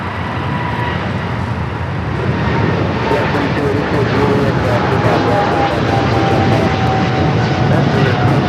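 A Swiss airliner on flight 41 to Zurich rolls along runway 25 right at Los Angeles airport, a loud, broad jet roar building steadily over several seconds, with a voice talking over it.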